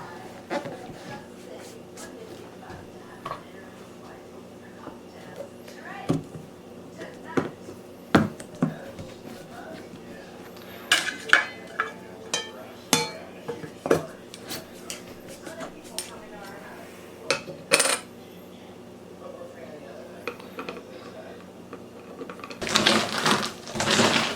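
Rocks and polish being stirred by hand in a rock tumbler barrel before sealing, scattered clicks and gritty taps of stones knocking together, close and moderately quiet, with a louder rattling burst at the end.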